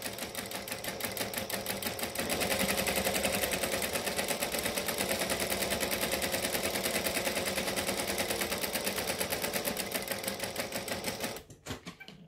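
A sewing machine topstitches a shoulder bag, running in a fast, steady mechanical rattle of needle strokes. It sounds close and loud and stops abruptly near the end.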